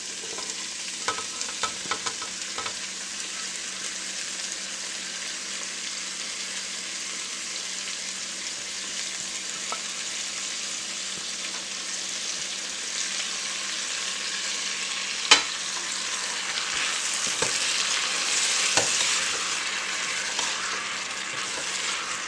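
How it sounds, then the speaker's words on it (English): Beef chunks and garlic sizzle and crackle in a hot pot for a homemade beef stew, with a steady bright hiss, scraping stirs and a few sharp clinks of the spoon against the pot. "get to stirring that meat and that garlic"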